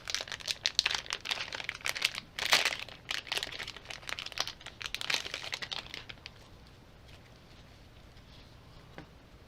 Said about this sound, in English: And let's try this tape out.